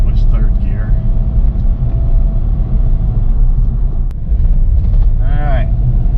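A Nissan Xterra with a transmission fault drives along, its low engine rumble steady and close as it shifts gears, with a speaking voice heard over the noise.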